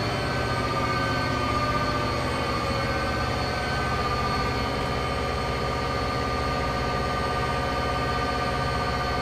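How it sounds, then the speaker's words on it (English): Nine heavy SP SD40T-2 diesel locomotives on Donner Pass in Train Simulator drone and rumble continuously, a dense engine roar with steady tonal hum and no voices. "Nine locomotives hauling this train."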